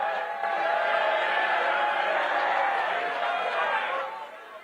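Crowd at a Libertarian National Convention in Washington, D.C. booing, a sustained loud mass of voices that swells and holds for several seconds before tapering off.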